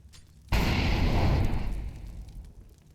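A burst of fire and a whoosh from an incendiary grenade thrown in CS:GO during a professional SK Gaming vs Astralis match, starting abruptly and loud, then holding as a dense roar that slowly fades.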